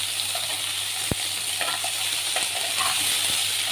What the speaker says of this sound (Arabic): انا بقى بعملها كده احمرهم في الطاسه بتاع التحمير